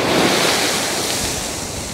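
Big waves break hard on Shankarpur beach, a loud, continuous wash of surf and wind that swells at the start and eases slightly over two seconds, with no voices.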